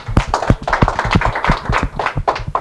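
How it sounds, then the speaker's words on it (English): A small workshop audience claps for volunteers, the claps sparse and individually distinct, a loose uneven patter of hands at close range rather than a full roar. "Let's give them a round of applause."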